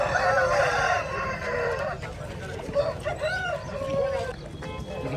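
A rooster crows loudly at a poultry market, with more clucks and shorter crows from the chickens around it and voices talking nearby throughout.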